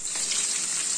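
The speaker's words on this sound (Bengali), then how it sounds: "এখানে চলছে মাছ ভাজা" Pieces of catla fish fry in a hot pan, giving a steady, close, even sizzle with a bright hissing texture that holds throughout the short moment with no talking.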